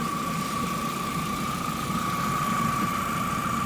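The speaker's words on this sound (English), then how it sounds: "Want to rev it up a little bit?" A 1.8 car engine fitted with a cold air intake runs steadily nearby, a constant rumbling hum with a faint whine that holds level throughout without clear revs.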